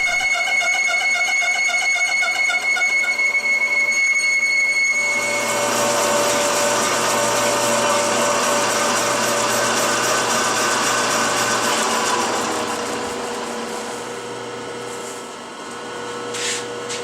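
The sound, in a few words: grooving tool cutting through a plate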